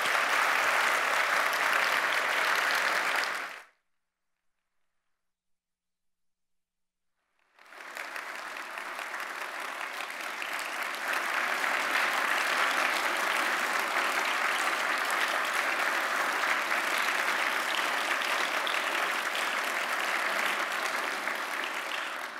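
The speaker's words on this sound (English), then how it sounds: "please accept our applause as a small token of our gratitude" Large audience applauding at a political science association's presidential address, sustained loud clapping that cuts out for a few seconds, then resumes and continues steadily.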